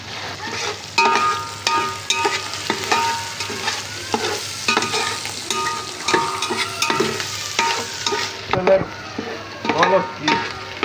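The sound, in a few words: frying in ghee for beef biryani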